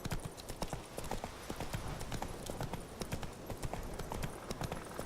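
The horse Roach trots through The Witcher 3 with a steady, brisk clip-clop of hooves, close and even, and the rhythmic strikes carry on without a break throughout.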